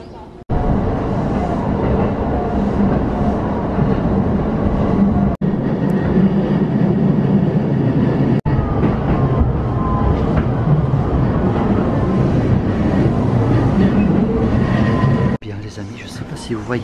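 A train rolls through the Okutama gorges in Japan, heard from inside as a loud, steady rumble with a few abrupt cuts and a quieter stretch at the end. A voice talks over the noise.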